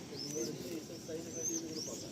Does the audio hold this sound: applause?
no